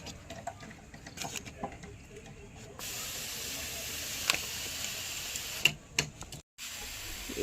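A hand sprayer mists a homemade fertilizer of mustard and tea-leaf water onto potted flowering plants, giving a steady faint hiss broken by short pauses, fairly close and quiet.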